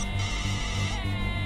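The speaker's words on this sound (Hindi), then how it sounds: "फोन बज रहा है, कम से कम फोन तो उठाइए।" A phone rings in a Hindi movie scene, a pulsing electronic tone repeating in short regular bursts, fairly loud and alone in the room without talk.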